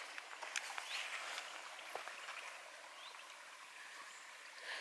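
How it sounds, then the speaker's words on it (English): A babbling brook hidden in lush vegetation along a coastal hiking trail, heard as a steady, fairly soft trickling wash of water with no talking over it. "Hear the babbling brook."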